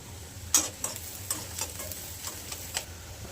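Red chili powder and goda masala get stirred into an oil-filled frying pan, a soft sizzle under a series of light scraping and tapping strokes from the spoon against the pan.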